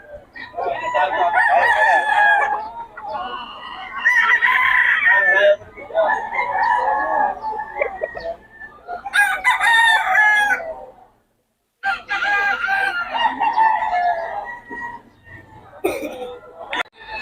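Roosters crow loudly and repeatedly at a poultry market in Bocaue, with long strained calls close by, and clucking and voices mixed in between.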